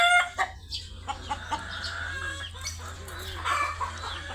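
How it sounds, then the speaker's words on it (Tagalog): Chickens clucking on a farm, with hungry chicks peeping continuously and a rooster-like call rising over a steady low rumble of background noise. "meron din po tayo mga sisiw dito. Ito yung mga sisiw natin po, medyo gutom sila"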